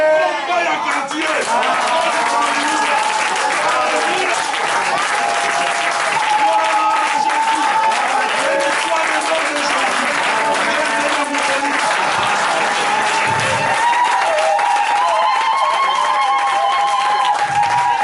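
A church congregation applauds and cheers at length, a dense crowd clapping with shouts and a voice ringing over it, sustained and loud throughout.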